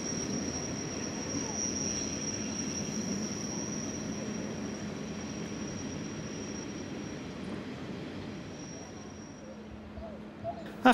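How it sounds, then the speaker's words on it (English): A Class 101 electric locomotive on a Golden Pass service to Luzern pulls into Brienz station, a steady low rumble with a thin high whine, fairly faint and gradually easing off as it slows. "A Class 101 electric arrives with a Golden Pass service for Luzern"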